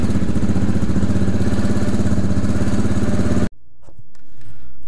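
A KTM 690 R single-cylinder motorcycle idles while warming up, with a loud close, rapid even thumping that cuts off abruptly and leaves near silence.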